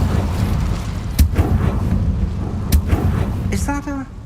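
Incendio fire spell cast in the Hogwarts Legacy video game: a low rumbling roar with two sharp bursts and a steady crackling fire underneath, fairly loud, ending with a short tonal chime.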